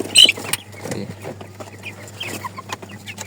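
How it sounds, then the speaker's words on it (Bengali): Several native desi chickens cluck and squawk close by while pecking and fighting, with one sharp loud call at the start followed by softer, scattered clucking. "এই 7টা দেশি মুরগি বড় বড় মুরগিগুলোরে ঠোকরাচ্ছে"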